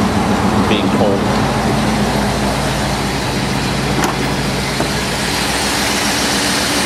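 A Ford Thunderbird engine runs at a steady low rumble on a cold start, idling continuously at close range while someone talks over it.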